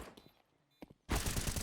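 Rapid gunfire erupts in a competitive Counter-Strike style match, a sudden loud burst after quieter footsteps and clicks, sustained to the end of the clip.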